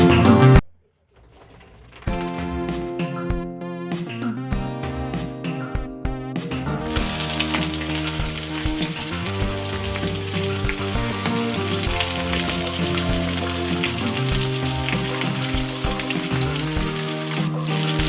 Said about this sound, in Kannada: ಫಿಶ್ಗೆಲ್ಲ ರವೆ ಹಾಕೋತಾ ಇದ್ದೀನಿ. ರವೆ ಫ್ರೈ ಮಾಡ್ತಾ ಇದ್ದೀನಿ ಇವತ್ತು.